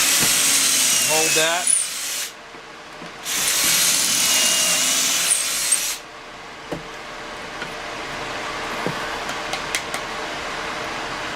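A drill bores pocket holes through a Kreg K3 jig in two loud whirring bursts of a few seconds each, followed by quieter clicks and handling noise, with someone talking nearby.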